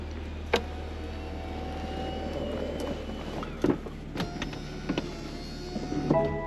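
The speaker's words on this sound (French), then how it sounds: "On va venir fermer le toit tout simplement pour cet essai routier." A steady electric motor whirs as a BMW Z4 M40i's soft top closes, with mechanical clunks and latching clicks toward the end, over a low idling hum.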